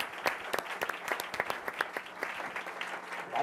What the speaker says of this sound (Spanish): Les pido un aplauso para los panelistas